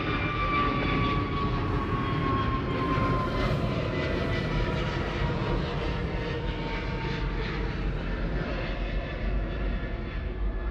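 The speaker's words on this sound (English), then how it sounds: "Heavy arrival coming in. Get ready. Who do we have? Delta 898 flying in from Atlanta." A Delta jet airliner arriving from Atlanta roars steadily on its landing approach at LAX, a loud broad engine rumble with a whining tone that slowly descends in pitch, heard alone and sustained throughout.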